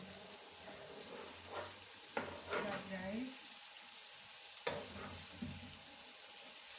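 Egusi soup frying in a fry pan, giving a soft, continuous sizzle with a few scraping stirs and brief clinks, fairly quiet and close, with a voice faintly in the background.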